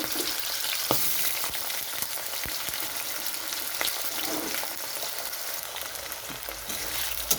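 Chopped potato fries in hot oil with garlic and green chilli, a dense, even sizzle running throughout with occasional light clicks of stirring; no voices.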